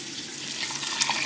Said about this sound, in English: And then I'm just going to fill this with water